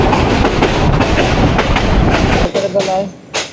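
Agnibina train pulling out of Gafargaon railway station, a loud continuous rumble and clatter of rail cars that drops off sharply near the end, leaving quieter rolling noise and a brief swell.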